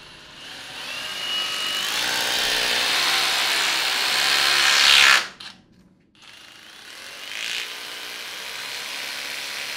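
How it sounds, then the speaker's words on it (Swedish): Power drill boring holes at an aquarium, a sustained high motor whine that rises in pitch, cuts off abruptly, then starts again for another hole. "Men då borrar jag 4 hål här nu."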